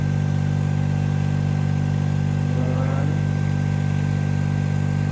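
The engine of a John Deere 1025R tractor runs steadily at about 2,000 RPM with a constant mid-pitched drone and hum, close and loud, during a stress test of a HydrosPlus Cooler+; no talking.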